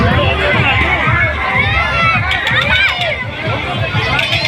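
Dense crowd at the Kali Mata temple fair in Dhaulpur, a loud continuous babble of many voices with shuffling movement close by, steady throughout.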